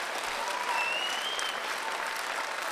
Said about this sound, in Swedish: låt oss ge Jesus en applåd